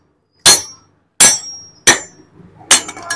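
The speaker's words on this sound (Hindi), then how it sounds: "ये जितना हैवी हथौड़ा होगा ये उतनी जल्दी आसानी से निकल जाएगी" Four heavy, ringing hammer blows strike metal at uneven intervals as a pin is driven out of a heated Hero Splendor motorcycle crank, each hit sharp and close with a brief metallic ring.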